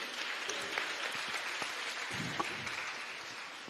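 Scattered applause from an audience, moderately quiet and continuous, with a few sharper claps standing out.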